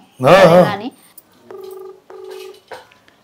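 A telephone keypad dialed after a brief burst of nearby talk, with two steady tone segments and a short final blip sounding clearly and close.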